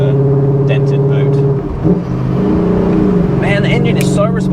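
Supercharged E39 BMW M5 engine pulls hard under acceleration, a loud, steady engine drone with strong harmonics. The engine rises in pitch and is heard from inside the car while people talk over it.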